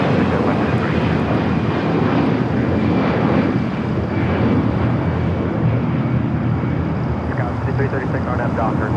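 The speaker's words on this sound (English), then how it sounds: "The Emirates A380 Super now making the right-hand turn onto taxiway Kilo." Emirates Airbus A380 turning onto a taxiway at Los Angeles airport, a loud steady jet engine roar close by, with radio voices heard over it.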